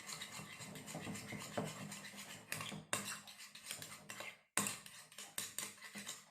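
Clear blue slime being mixed in a bowl, heard as continuous close scraping and squelching with utensil clinks against the bowl and a couple of brief pauses, with no talking.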